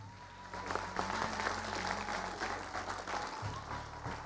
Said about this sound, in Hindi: Ladies and gentlemen, please put your hands together for Zia Shahid